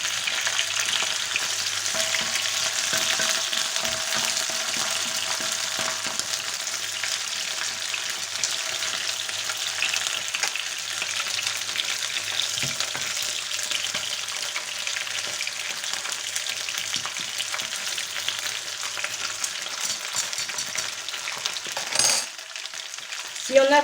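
Paella ingredients frying in olive oil in a pan, a steady close crackling sizzle that runs unbroken, with a sharp clatter and scrape near the end.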